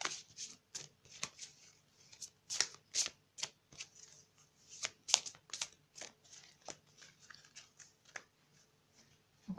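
Tarot cards shuffled by hand at close range, a quiet run of rapid riffling flicks and soft snaps in uneven bursts, with no talk over them.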